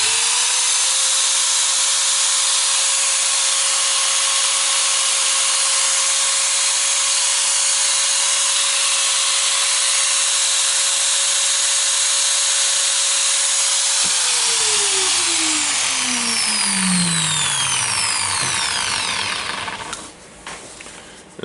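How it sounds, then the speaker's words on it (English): Makita 9558HN small angle grinder runs after an armature repair, a loud steady high whine held for about fourteen seconds, then switched off and spinning down with falling pitch until it stops. "so now I will turn the grinder back on again."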